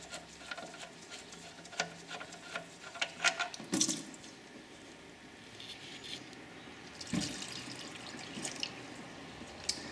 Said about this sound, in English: So now what you want to do is just give that a few minutes to drain out.